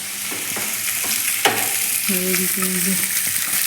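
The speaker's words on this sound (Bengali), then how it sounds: "মাছ ভাজা হচ্ছে" Fish frying in a pan in a home kitchen, a steady broadband sizzle with a few stirring scrapes and brief clinks, close and fairly loud throughout, no talk.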